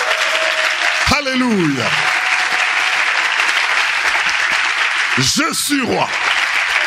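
A church congregation applauds steadily throughout, a thick, continuous wash of clapping, while a preacher's voice carries over it in short exclamations.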